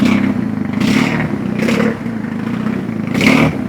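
A loud customised BMW R nineT motorcycle engine idling with a rough low rumble, revving up in three short bursts that rise and fall.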